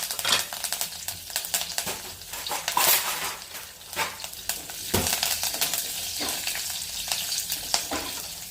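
Green chillies and coriander sizzle and crackle steadily in hot ghee with cumin for a Khandeshi curd kadhi tempering, with occasional stirring and the clink of utensils on the pan, close and continuous.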